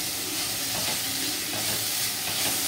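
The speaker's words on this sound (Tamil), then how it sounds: "இப்போ பூண்டு போட்டுக்கலாம்." Garlic and chopped green chillies sizzle and fry in hot sesame oil in a pan, giving a steady, close, broadband hiss with faint stirring. It is heard alone, without talk.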